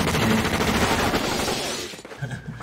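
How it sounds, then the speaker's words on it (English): Rapid bursts of gunfire crackle in a film trailer for Once Upon a Time in Hollywood, a dense loud fusillade with shattering impacts that thins out toward the end. "All the shooting."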